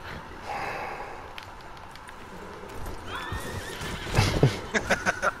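A horse gives a loud whinny, then hooves clip-clop in a quick uneven run close by. A faint snort and sigh come earlier over a quiet background.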